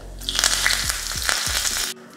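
Seeds and leaves hit hot oil with a burst of crackling, popping sizzle, sharp and close, cutting off abruptly near the end.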